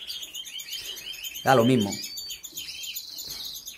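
Pet birds chirping indoors, a steady run of thin, quick tweets in the background, with a voice cutting in briefly partway through.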